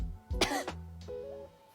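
A short cough during a pelvic floor exercise session, a single loud burst followed by a quieter tail, heard up close with no talking.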